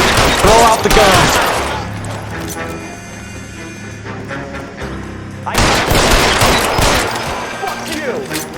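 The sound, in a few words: gunfire in the video game L.A. Noire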